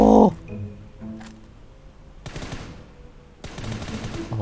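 Gunfire in the PUBG battle royale video game: a short opening burst, then two separate clusters of rapid shots split by quieter stretches, fairly close and sharp.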